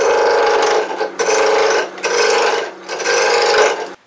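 A wooden replacement tool handle being turned on a lathe gives four close, loud bursts of scraping and rasping, each roughly a second long and separated by brief pauses.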